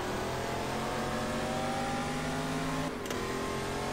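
Racing car engine in the PC game GT Legends, a loud continuous revving drone with rising and falling pitch as gears shift, briefly dipping near the end.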